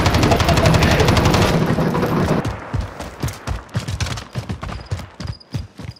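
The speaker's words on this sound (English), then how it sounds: "That's enemy fire!" Enemy automatic gunfire in Call of Duty: Modern Warfare, first a dense continuous roar of shots, then a rapid string of loud, distinct bursts with short gaps.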